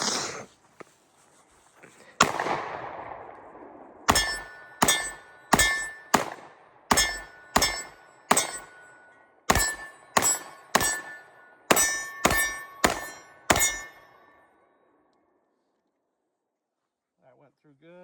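A Kimber DS Warrior 10mm pistol fires S&B rounds in a steady string of about fifteen sharp, loud reports, each with a metallic ring. Quiet follows after the last shot.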